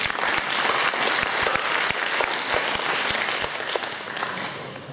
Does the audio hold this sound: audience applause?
yes